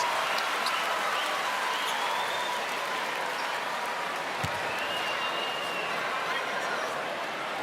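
A crowd in a basketball arena cheers and claps steadily at a pro league game during a free throw, a sustained, fairly distant roar with a single ball bounce about midway and faint commentary underneath.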